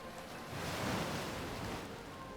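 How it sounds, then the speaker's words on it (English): Ambient sea waves in the EverQuest II game world roll in a steady, broad wash of surf that swells slightly midway, continuous and fairly close with no voices. "That sea sound is extremely ambient, of course."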